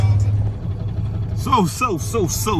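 A semi truck's engine idles at a shipper's lot during a trucking run from Ohio to Wisconsin, a steady low rumble that carries throughout while someone talks over it in the second half.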